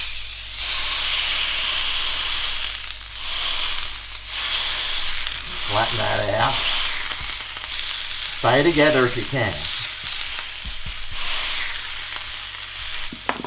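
Burger meat sizzles steadily in a hot frying pan, a loud continuous hiss and crackle running throughout, while someone talks briefly over it.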